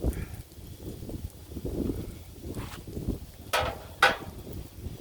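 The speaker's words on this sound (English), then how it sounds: "the wind's too bad" Strong gusting wind blows outdoors on a warm day around a griddle, giving a low buffeting rumble against the microphone with a few sharper rustles and knocks.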